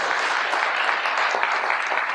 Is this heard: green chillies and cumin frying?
no